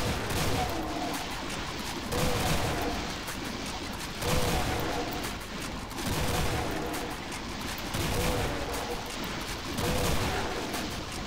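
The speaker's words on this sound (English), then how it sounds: "we just have our minigun, maybe" A minigun fires in a heavily modded GZDoom open-world game, producing a dense, continuous rattle of rapid gunfire that swells and dips in loose bursts roughly every two seconds over a constant churning backdrop.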